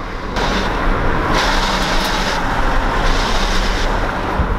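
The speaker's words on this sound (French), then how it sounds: "Ça c'est le bruit de la boîte en quatrième." Drivetrain of a VW Passat 1.9 TDI with a failing gearbox, held in fourth gear, gives a loud, steady rumbling drone with broadband road and mechanical roar that barely changes throughout.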